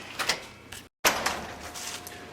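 Shop door opened at a garage holding a 1957 Chevy, heard as a series of rattling, scraping mechanical bursts with a brief dropout midway, fairly faint and with no talking.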